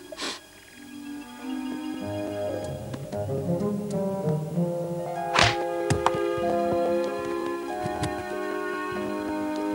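A few sharp wooden knocks like a croquet mallet striking a ball, one clearly louder, over humming tonal background sounds.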